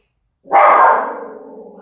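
A dog gives a single loud, close bark that starts abruptly and trails off into a short rough tail, alone against silence.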